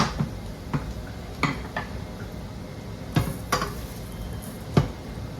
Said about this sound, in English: I'm now going to add back in the bacon.